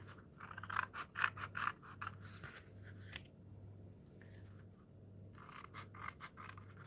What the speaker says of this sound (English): I'm using nail scissors and using the curve of the scissors to my advantage